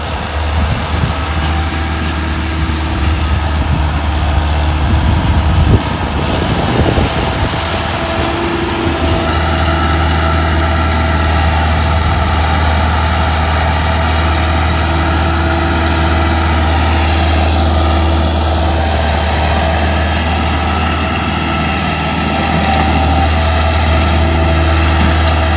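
An Arjun 605 tractor runs in a field while hauling a heavy load, its engine a loud, steady low drone with a brief rougher stretch early on, and no talk.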